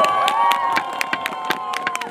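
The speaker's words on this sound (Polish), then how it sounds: "Aplauz, brawa, okrzyki." A crowd cheers with sustained voices and scattered sharp claps during a Brodacze folk costume presentation in Sławatycze, lively and moderately loud throughout.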